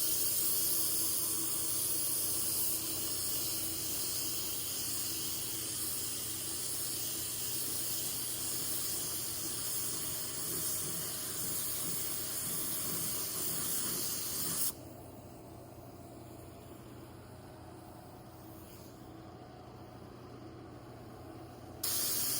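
Spray gun laying base coat on a 1984 C10 truck, a faint steady hiss of spraying that runs for about fifteen seconds, then stops, leaving quiet background with a brief burst at the end.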